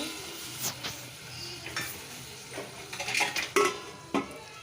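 Gentle sizzling of tomatoes in tempering oil in a pan underneath a series of clinking spoon-and-pot scrapes, several sharp taps spaced irregularly.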